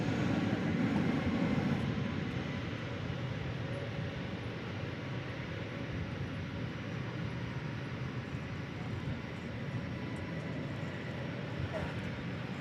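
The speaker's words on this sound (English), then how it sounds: "I spy with my lens an Airbus A320 coming in from McAllen, Texas." An American Airlines Airbus A320 arriving at Dallas Fort Worth airport makes a distant, steady low jet rumble, slightly louder at first before settling into a constant drone.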